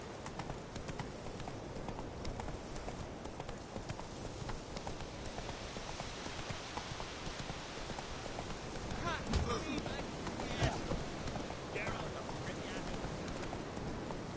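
Roach the horse gallops in The Witcher video game, a steady rapid clip-clop of hooves running throughout, fairly close, with rain-like patter and a few brief louder thumps in the mix.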